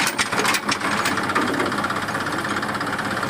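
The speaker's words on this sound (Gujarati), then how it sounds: "કચરાનું ટ્રેક્ટર આવ્યું." A garbage-collection tractor's engine idles nearby with a steady low knocking chug, continuous and fairly loud, with a few sharper clanks at the start.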